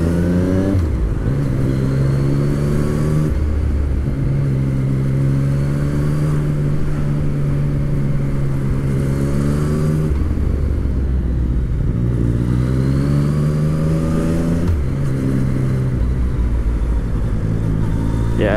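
A 2015 Yamaha MT-09 motorcycle under way in a relaxed riding mode, its engine note steady and close with gear-by-gear rises and falls in pitch, rhythmic changes every few seconds over constant road and wind rumble.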